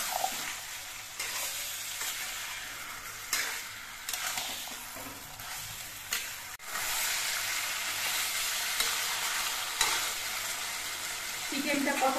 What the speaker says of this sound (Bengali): এবার গ্যাসের ফ্লেমটা মাঝারিভাবে রেখে নিয়ে চিকেনটা কিন্তু বেশ অনেকক্ষণ ধরে কষিয়ে নিতে